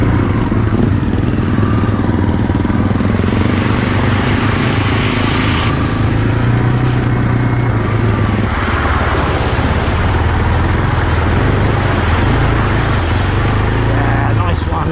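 A Beta Alp 4.0 motorcycle engine drones and revs continuously while riding through muddy puddles, loud and close, with clattering bursts and people talking over it.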